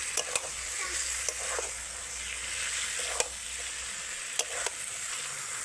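Marinated crocodile fish cooking with spices in a pan, a soft, continuous sizzle with occasional light knocks of a stirring spoon. Moderately quiet, no voices.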